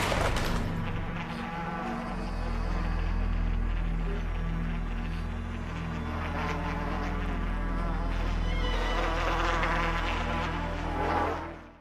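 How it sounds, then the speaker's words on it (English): Swarming flies in a Goosebumps television episode drone in a continuous, loud, close buzz with a steady low hum beneath it, fading out at the end. "And she's turned everybody into flies, basically."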